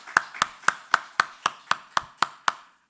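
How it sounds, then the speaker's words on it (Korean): A single pair of hands at a church service clapping ten evenly spaced, sharp claps in a steady rhythm, close and fairly quiet, then stopping. "감사와 영광의 박수 드립니다."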